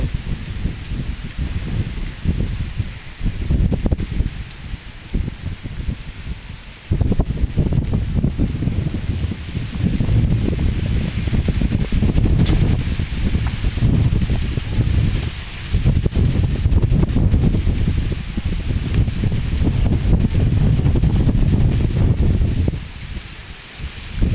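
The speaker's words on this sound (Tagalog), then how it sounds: "Lakas talaga ng hangin dito." Strong gusty wind on a mountain buffets the microphone in heavy rushing waves, loud and continuous, with brief lulls between blasts.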